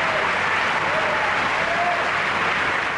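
A theater audience applauds in a thick, continuous roar of clapping, loud and steady from start to finish, with indistinct crowd voices blended in.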